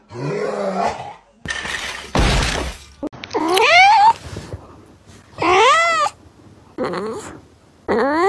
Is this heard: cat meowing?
yes